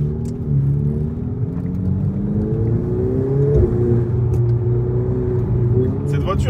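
A Ferrari 488 Spider engine drones close by with a steady low rumble and rising, rev-like tones that shift in pitch across the clip, while a voice talks over it.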